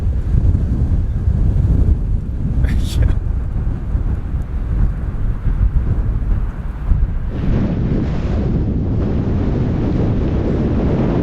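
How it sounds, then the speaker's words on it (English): Strong gusting wind roars across the microphone of a cyclist climbing Columbine Pass in Uncompahgre National Forest, a loud, steady low rumble that surges partway through, with no speech. "Ridiculous wind. It's gotta be blowing 40."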